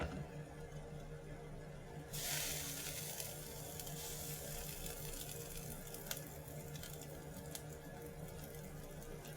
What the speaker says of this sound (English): I'm going to add just a little bit of the pasta water back